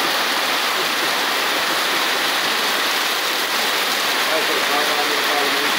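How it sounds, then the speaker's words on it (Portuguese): Heavy rain in Jabitacá, Pernambuco, Brazil, roars in a loud, dense, unbroken hiss, close by and steady, like a downpour drumming on surfaces. "Chuva aqui pesada, viu?"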